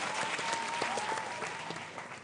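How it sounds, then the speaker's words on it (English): A school quiz competition audience claps for a junior high team, a brief burst of steady applause heard at moderate distance, with a faint tone running under it and no talking. "Give them a round of applause."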